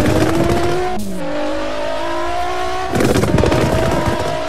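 Admin car in the video game Pacifico 2 roars loudly at high revs, its engine note climbing and dropping through gear changes, with a harsh, rapid rattling burst at the start and again near the end.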